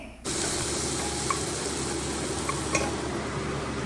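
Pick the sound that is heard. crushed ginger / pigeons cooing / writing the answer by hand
crushed ginger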